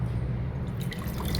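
Water is poured into flour for coconut jaggery kozhukkatta dumpling dough, with a soft close trickle and drips starting partway through over a steady low kitchen hum.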